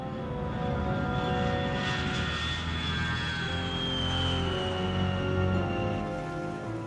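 A transport aircraft flies with a steady droning engine roar that holds at a constant level throughout, with no speech over it.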